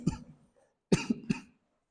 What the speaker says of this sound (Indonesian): Mohon maaf kalau ada batuk-batuk sedikit ya